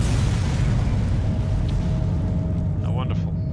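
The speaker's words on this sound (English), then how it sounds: "You're standing there taking all the fucking explosion in your face." Explosion in the Dead Space video game, a loud, sustained low boom and rumble filling the whole stretch, with a voice speaking briefly near the end.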